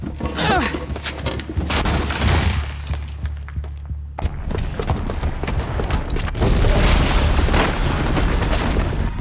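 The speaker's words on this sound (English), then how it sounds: "the booby trap on the bomb downstairs is gonna get set off" A booby-trapped bomb going off downstairs in Horizon Zero Dawn, with heavy booms, rumbling debris and shattering crashes, a sharp break around the middle, then a renewed loud roaring surge.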